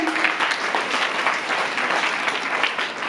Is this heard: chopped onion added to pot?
no